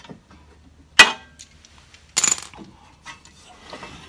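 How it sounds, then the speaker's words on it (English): Two short metallic clinks, about a second apart, as a bolt comes out of a PowerSmart snow blower starter during cord repair; quiet and close, with a faint rattle in between and no talk. "I'm gonna take out the bolt"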